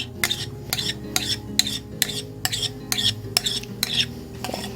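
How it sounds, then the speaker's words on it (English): A spatula scrapes around a mixing bowl of homemade horseradish sauce in a regular series of about nine short, bright strokes, close and moderately quiet, with no voices. "I'm going to go in that bowl and scrape it out really good."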